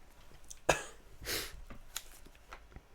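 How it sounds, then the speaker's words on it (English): A single sharp cough followed by a softer breathy rasp, fairly close and isolated in a quiet room. "Good start, coughing."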